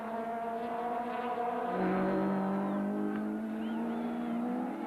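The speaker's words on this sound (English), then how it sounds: "Taylor takes a wide entry into the corner and he's powering past Mike Briggs" Touring cars race at the Kyalami circuit in a 1994 South African championship round, engines droning loudly and continuously with rising pitch as they accelerate, the tone shifting as cars sweep past.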